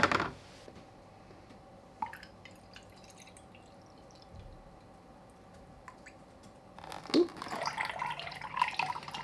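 Water running into a displacement can until it overflows, with a steady trickle and scattered drips, then a louder splashing burst of overflow near the end.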